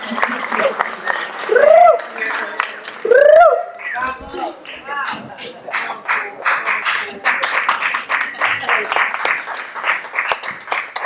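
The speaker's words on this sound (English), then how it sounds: "Give them a great big round of applause." An audience at a college reunion conference claps after a performance, with dense, steady clapping under a voice that calls out over it, plus a few whoops and cheers.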